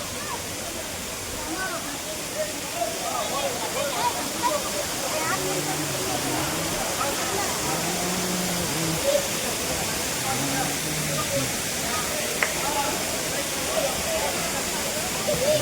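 Rushing water of Talakona Waterfalls in Andhra Pradesh, a loud continuous broadband roar that fills the whole clip, with a voice talking faintly underneath.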